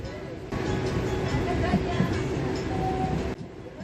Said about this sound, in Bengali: ঝিকঝিক করে এই যে ট্রেন চলছে